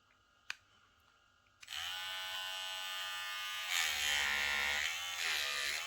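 A Cronier CR 9250 cordless hair trimmer, a Wahl-style detailer, switches on after a sharp click and runs with a steady, close electric buzz that rises slightly in pitch and loudness partway through, with no talking.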